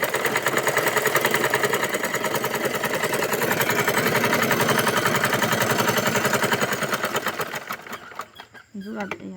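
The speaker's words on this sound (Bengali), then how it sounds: "আমি হাত দিয়ে ধরে সেলাইটা করে নিচ্ছি" A sewing machine runs steadily on a dress seam, its needle chattering in a rapid even rhythm for most of the stretch before slowing and stopping near the end, with a voice talking over it.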